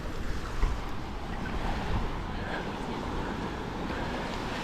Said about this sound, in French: Des fois, il y a des petites vagues.